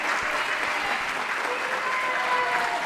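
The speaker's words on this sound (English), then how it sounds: "One more round of applause." An audience at a live comedy show applauds with dense, sustained clapping that fills the room evenly and stays loud from start to finish.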